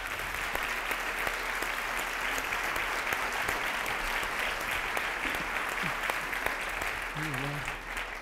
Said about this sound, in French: Donc Yves-Marie, si vous voulez bien l'applaudir.